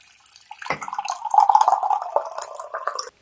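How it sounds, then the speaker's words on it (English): Water poured into a coffee cup, a steady liquid trickle with dripping splashes that builds and fills for about three seconds, close and alone with no talk. "So I'm going to put the water in."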